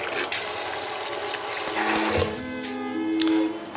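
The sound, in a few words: cold tap water poured to cover soaked beans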